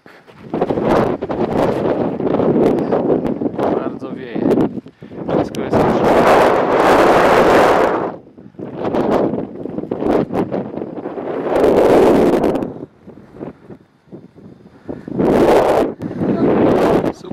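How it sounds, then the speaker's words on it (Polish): Wind gusts roar across the microphone on the summit of Pico del Teide, coming in loud rushing bursts that swell and drop off several times, with short calmer gaps between them. "Zimno i wieje."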